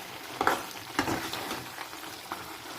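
Ridge gourd palya fries in oil in a pan, a low steady sizzle and bubbling with a few louder stirring knocks near the start, close and faint, with no talking.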